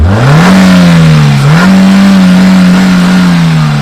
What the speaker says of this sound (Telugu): ఈ కార్ ఇంజిన్ సౌండ్ అంటే చాలా ఎక్సలెంట్ కండిషన్ లో ఉంది.